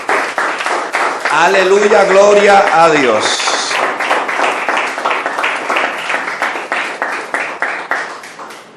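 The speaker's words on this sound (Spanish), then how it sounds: "Bríndale ese fuerte aplauso al Señor." A church congregation breaks into loud, sustained applause with brisk, rhythmic clapping that continues throughout, while a voice calls out over it near the start.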